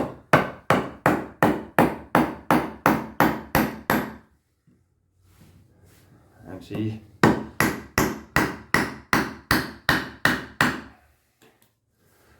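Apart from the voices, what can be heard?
hammering knife into wooden stump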